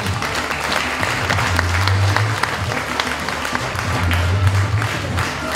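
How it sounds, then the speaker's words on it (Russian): Warm applause from an audience at a children's art school welcoming guests from Kabardino-Balkaria, a dense, continuous patter of many hands with a low hum underneath, steady throughout. "давайте теплыми аплодисментами поприветствуем наших гостей"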